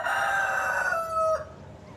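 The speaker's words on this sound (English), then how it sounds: "Every morning, this chicken comes to my window and crows like that every single morning." A rooster crows at a window in the morning, one long, loud, close cock-a-doodle-doo that holds steady and then breaks off sharply, heard alone with no talk.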